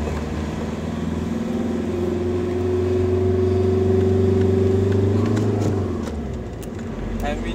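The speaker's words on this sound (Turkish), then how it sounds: "Tekrar yükseltiyorum gazı." A diesel car climbs a ramp as its engine rises from a low idle hum into a steady, louder rev, holds, then falls back, heard from inside the vehicle.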